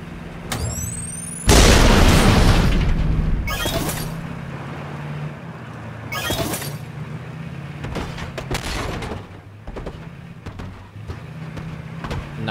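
A loud grenade blast in the H1Z1 battle royale game bursts out early, followed by several smaller booms and vehicle-like rumble with brief explosive hits scattered through the scene.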